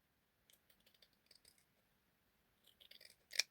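Scissors cutting through paper napkins, soft crisp snips in small irregular bursts, faint and close, ending with a louder sharp snip.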